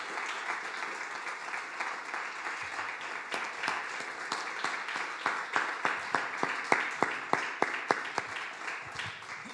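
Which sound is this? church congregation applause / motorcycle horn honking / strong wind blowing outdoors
church congregation applause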